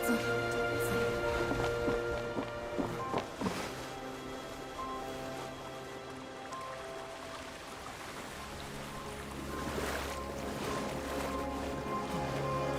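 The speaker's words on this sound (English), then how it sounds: "The water's receding!" Water recedes in the video game Genshin Impact, a broad rushing wash layered with sustained orchestral music, swelling again toward the end, with no voices.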